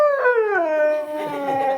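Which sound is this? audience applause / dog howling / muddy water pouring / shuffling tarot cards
dog howling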